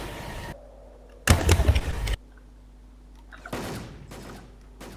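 Video game gunfire erupts in two sharp bursts of rapid shots, loud and close, separated by a lull of quieter in-game ambience with a low steady hum.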